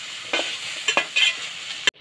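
Sliced okra stirred and fried in oil in a pan, a close bright sizzle broken by several scraping stirs, ending in a sharp clack and then a sudden drop to quiet.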